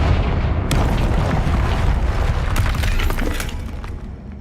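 A Confringo blasting spell erupts in Hogwarts Legacy, a loud sustained roar of rumbling blast and shattering debris with crackling bursts, fading slightly at the end.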